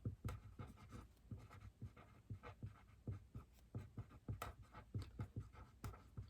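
A pen scratches out handwriting on a paper chart in short, quiet, uneven strokes, close by and with no voices.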